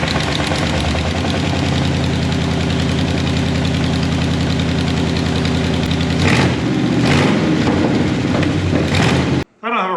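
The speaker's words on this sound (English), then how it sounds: "I think we have enough pieces on this engine to do a test fire" An engine on an off-road hot rod buggy, run without a radiator, fires and runs loudly and steadily up close with a rough, knocking idle before suddenly cutting out near the end.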